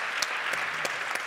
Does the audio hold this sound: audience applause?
yes